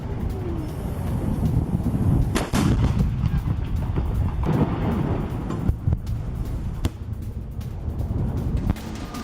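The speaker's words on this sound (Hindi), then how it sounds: "ये देखिए हमास का रॉकेट हमला कैसे होता है उसकी एक तस्वीर सामने आई है" Loud, continuous rumble and blasts from a Hamas rocket attack in news footage, with repeated sharp launch or impact bangs spread across a heavy low roar and wind buffeting.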